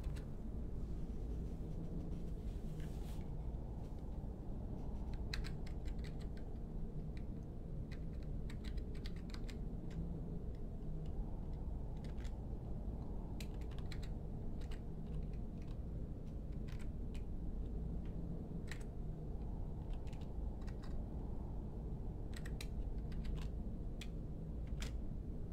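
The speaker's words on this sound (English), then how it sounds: "I'm opening up the console command and typing in set stage, space, capital T" Keyboard typing while entering console commands on a PC during a Skyrim Special Edition glitch fix, heard as steady clusters of close, crisp key clicks over a constant low hum, with no talking.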